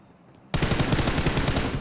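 Rapid automatic gunfire in the video game PUBG bursts in after a quiet moment, a loud, close, continuous rattle of shots lasting over a second.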